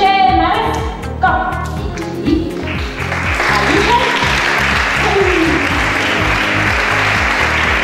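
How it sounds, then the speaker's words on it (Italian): Audience applause at a 2017 singing contest as a performer named Alice takes the stage, a dense, loud wash of clapping over steady music, swelling after the first few seconds and continuing without pause. "Grande applauso"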